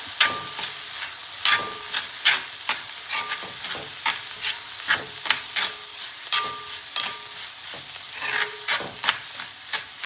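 A spatula scrapes and stirs rhythmically through sambar cheera greens sizzling in a pan, steady frying crackle underneath the repeated strokes.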